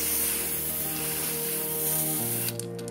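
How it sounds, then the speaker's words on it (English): Golden spray paint hisses from an aerosol can in one steady, close, continuous burst that cuts off near the end, with a faint mechanical hum beneath. "So let's start spray painting it with the golden spray paint."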